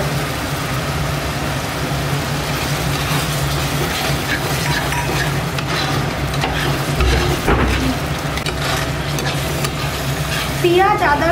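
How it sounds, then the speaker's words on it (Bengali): Onion, ginger, garlic and tomato fry in a pan with a loud, continuous close-up sizzle, broken by occasional scraping stirs and a few sharper clatters. "পেঁয়াজ, আদা, রসুন, টমেটোটা দেখুন ভালো করে ভাজা ভাজা হয়ে গেছে"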